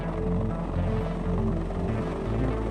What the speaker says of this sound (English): The King Stallion helicopter, built by Sikorsky, is known as the most powerful helicopter the United States has ever had in its fleet